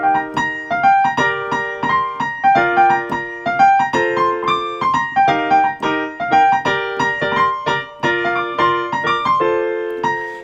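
Piano melody of a tune, played alone with bright repeated chords and a catchy, rhythmic top line that keeps a steady, lively pulse for about ten seconds.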